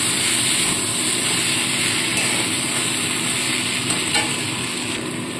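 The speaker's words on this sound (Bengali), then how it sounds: "দিয়ে খুব ভালো করে মশলাটাকে মিশিয়ে নিতে হবে" Cumin and mustard paste masala being stirred in a hot pan for a mourola fish curry, a continuous loud sizzle and frying hiss with faint scraping of the spatula, close up.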